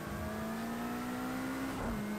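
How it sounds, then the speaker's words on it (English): A race car in Project Cars 2 holds a steady, high-revving engine note, then near the end a gear change brings a short pop of backfire from the exhaust as the pitch drops. "You can hear the sort of backfire as we change up each gear."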